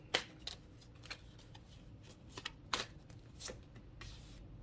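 Tarot cards being shuffled in a quiet room, giving several soft, crisp riffling bursts and flicks spread across the stretch, with low background hum underneath.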